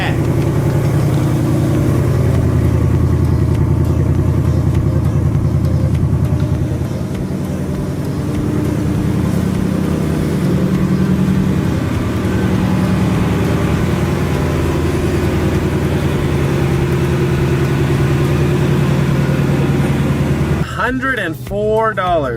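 Ford Mustang engine after a cold start, settling into a steady, loud idle with a rich low rumble that holds throughout, then a brief burst of other noise right at the end.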